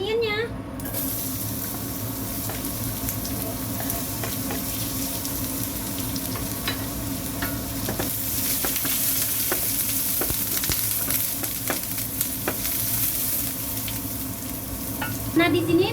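Onions frying in a pan, sizzling steadily for spaghetti with tomato sauce at home, with frequent scraping clicks of a utensil stirring them throughout; someone speaks over the cooking.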